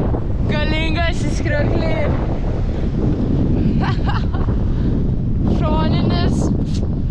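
Strong wind batters the microphone continuously on an Icelandic road trip, a loud roaring buffet throughout, while someone speaks briefly over it.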